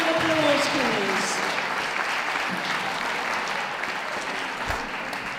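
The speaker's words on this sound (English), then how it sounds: "Give the others a round of applause, please" Steady applause from spectators at an outdoor dog show after the reserve best in show award, a continuous patter of many hands at moderate loudness with faint voices underneath.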